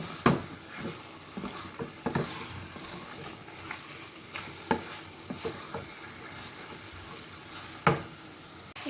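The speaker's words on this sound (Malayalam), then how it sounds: "ഇത് നന്നായിട്ടൊന്ന് വഴറ്റിക്കൊടുക്കാം" Chicken curry masala sautéed in a pan, a low sizzle broken by a handful of sharp spoon scrapes and knocks against the pan, spaced irregularly and close by.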